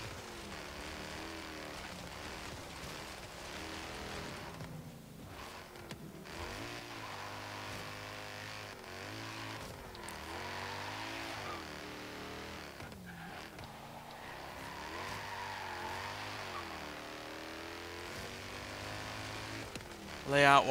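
A 1977 Aston Martin V8 Vantage in Forza Horizon drives steadily, its front-mounted V8 droning and rising and falling in pitch through repeated revs and shifts, with speech at times over the engine.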